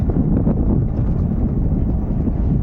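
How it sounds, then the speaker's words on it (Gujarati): Cold wind gusts across a green rural roadside, a loud, rumbling roar buffeting the microphone throughout, with no voices heard. "એમાં પણ ઠંડો પવન આવે"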